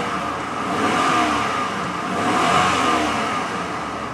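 A 2002 Chevy Z71 Avalanche with a 5.3 LS engine and 153K miles revs up in two swelling pushes, a steady loud engine roar rising and falling with no talking.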